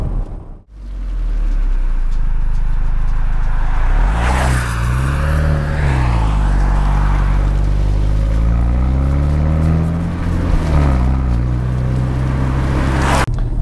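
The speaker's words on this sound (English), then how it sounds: "here we are behind the wheel of the BMW M135i X-Drive on this very misty and chilly country road" A BMW M135i xDrive drives along a misty, chilly country road, its engine droning loud and close with rising and falling revs as it accelerates and shifts gears, and no talk over it.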